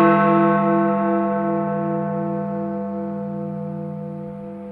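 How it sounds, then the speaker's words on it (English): Big Ben, the great bell of the Westminster clock tower, sounds a single deep strike, its rich ringing tone left to hum and slowly decay with no other sound. "So here's the sound of it from a recording by the BBC."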